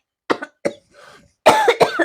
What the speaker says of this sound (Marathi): तीन आठवडं झालं बाया खोकला लागलाय